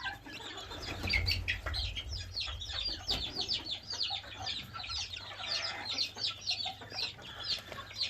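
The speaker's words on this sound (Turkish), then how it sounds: "Şimdi civcivi serbest bırakıyorum." A young chick cheeps repeatedly in high, rapid chirps after being freed from a splint used to treat splayed legs, with clucking fowl sounds and low rumbling in the background.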